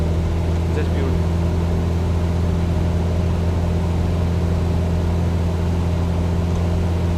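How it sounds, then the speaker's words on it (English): Airbus A320 engines drone during a VFR city tour flight over Dubai, a loud, steady, continuous hum with constant tonal whine and no change in pitch throughout. "You should hear the A320 engine."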